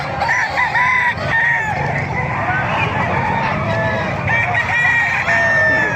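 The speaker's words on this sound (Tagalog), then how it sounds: "Isa-isayin natin mga manok dito." Several roosters crow over a constant background of clucking chickens at a busy, loud outdoor chicken market, with faint voices mixed in.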